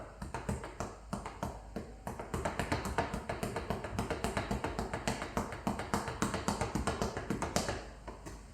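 Punches on a speed bag in a slow fist-roll rhythm, a long run of evenly spaced, sharp thumping taps that settle into a steady beat, close and crisp with no talking.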